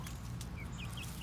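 Bielefelder chickens pecking at lettuce give a few soft, faint clucks and chirps over a low background hum, with no talk.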